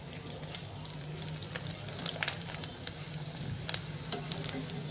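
Samak rice kachri fry in very hot oil, giving a continuous close sizzle with scattered light pops and faint stirring throughout.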